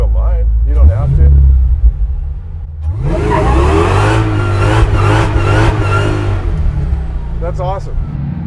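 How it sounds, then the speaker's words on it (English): A Chevy C10 pickup does a burnout, its V8 rumbling at idle, then revving hard in repeated rising and falling surges, loud and close, while voices talk and shout over it. "They're so dumb, burnouts, but goddamn if they're not just fun, right?"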